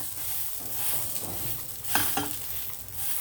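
Chana toast roasting in ghee on a pan gives a steady soft sizzle with a couple of brief scraping clicks from spatulas partway through, close and moderately quiet, with no talk.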